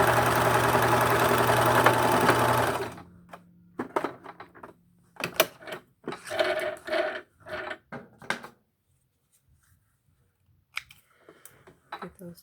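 A sewing machine runs fast and steady for about three seconds while stitching a fabric face mask, then stops. Scattered handling clicks and rustles follow, along with a few quiet gaps.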